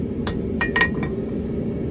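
A hammer strikes hot steel on an anvil while leaves are forged, a few sharp ringing blows heard over a constant low roar.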